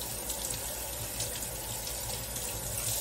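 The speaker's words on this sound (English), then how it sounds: "Get my hands rinsed off here." Running tap water in a kitchen sink as hands are rinsed, a steady soft splashing hiss that stays constant throughout, fairly quiet and with no voices.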